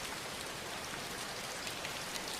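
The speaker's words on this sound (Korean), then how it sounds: "빗소리, 빗소리가 있다." Steady rain falls in a dense, even patter on a surface, a continuous close hiss with no voices.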